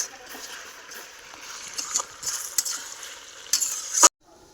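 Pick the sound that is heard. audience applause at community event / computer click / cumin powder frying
cumin powder frying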